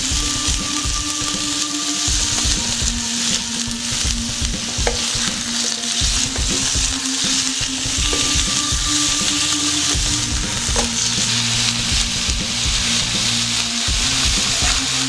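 Chicken frying in a pan with garlic and chili, a constant close sizzle with frequent spoon stirring and scraping throughout, no voices.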